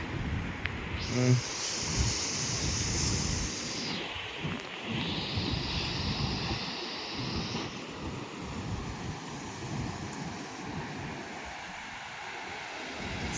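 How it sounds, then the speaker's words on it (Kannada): Sea waves roll and break at Maravante beach on the Karnataka coast in the rainy season, a steady moderate wash of surf under wind noise, with a passing aircraft-like drone in the first half. "ಸಮುದ್ರದ ಅಲೆಗಳು ಆನಂದವಾಗಿ ಆಗಮಿಸ್ತಾ ಇದೆ"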